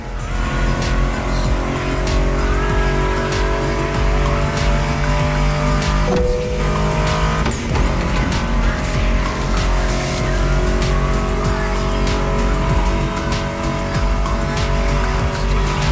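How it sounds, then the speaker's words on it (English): Muscle car engines roar at full throttle in The Crew Motorfest racing game, loud and continuous with bursts of tire squeal, one brief dip in the middle, while music plays underneath. "Meshes well with the sound of the engines, you feel me?"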